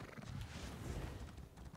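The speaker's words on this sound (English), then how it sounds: "Got my lovely white Imperial steed" A white Imperial steed in the video game Elder Scrolls Online gives a short whinny over the rhythmic clip-clop of its hooves, faint and brief, with no talking.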